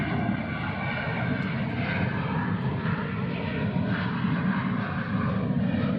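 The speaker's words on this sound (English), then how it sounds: "these massive international heavy jets come roaring in over the water just moments before touchdown" A heavy jet airliner roars overhead on approach over water just before touchdown, a continuous heavy rumble with broadband engine noise that stays loud and steady throughout.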